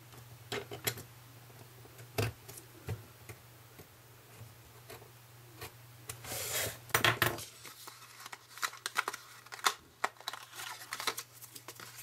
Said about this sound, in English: take my metal ruler and a craft knife. I'm just going to cut